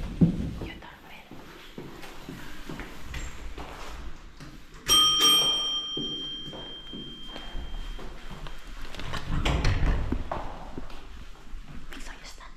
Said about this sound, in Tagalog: yung doorbell, Mixo.